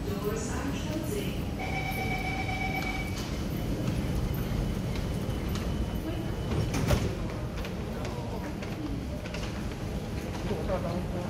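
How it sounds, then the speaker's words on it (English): MRT train doors at Bishan station slide shut on a southbound C151B train, with a warning chime ringing over the rumble of the platform and the train and a thud near the end, while a voice talks over it. "Doors are closing."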